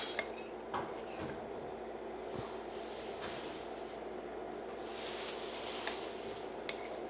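A pan sits on a stovetop as ghee goes in, with a steady soft hiss and a few light metallic clinks of cookware, all quiet and close in a home kitchen.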